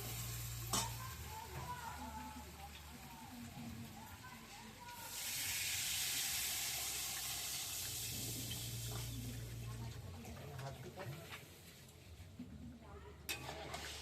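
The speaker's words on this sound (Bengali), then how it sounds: "এবার আমি এটার মধ্যে জল দিয়ে দেবো।" Water poured into a pan of fried-down spice paste for potato dum, setting off a loud, steady sizzle and hiss that swells midway and holds, with stirring and clinks.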